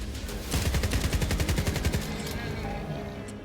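Rapid automatic gunfire aimed at a bear in S.T.A.L.K.E.R. 2, a long close burst of about fifteen quick shots that stops abruptly, leaving a fading ring.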